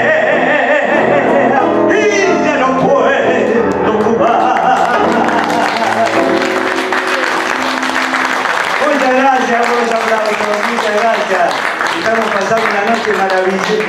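An audience in Bar Las Heras applauds after a sung tango performance, clapping building as the music fades, with voices mixing in.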